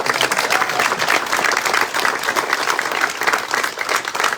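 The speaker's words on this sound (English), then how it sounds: "Round of applause, please." An audience applauds at a caboose unveiling beside a rail trail, a full, sustained crowd clapping that stays loud and even from start to finish, with a faint murmur of voices underneath.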